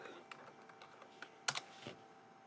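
Several key presses on a computer keyboard while a version command is entered into a PuTTY terminal, sparse taps with a louder double click near the middle, quiet and close with no speech.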